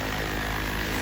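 An RC helicopter flies overhead as it comes in to land, giving a loud, steady whirring rotor and motor drone with a high whine over it, all alone without voices.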